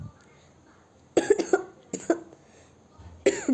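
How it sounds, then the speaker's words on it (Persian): Three short bursts of coughing from a person with a cold, close and fairly sharp, separated by quiet pauses over a faint background hum. "ببخشید من سرفه میکنم تو ویدیو چون سرما خوردم"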